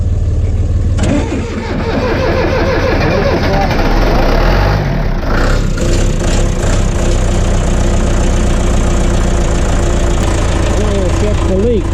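A John Deere 2030 tractor diesel engine with a freshly installed Roosa Master/Stanadyne injection pump fires and keeps running, loud and close, with a steady knocking beat throughout and voices over it.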